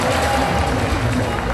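A dense, steady wash of crowd noise fills a hall at the UKBFF British bodybuilding finals, with cheering and clapping blended into a continuous roar.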